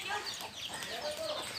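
Chickens cluck at a resort, short nasal calls repeating over a busy background with faint voices mixed in.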